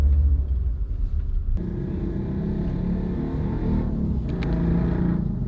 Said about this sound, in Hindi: अब ये गाड़ी पार्क हो रही है।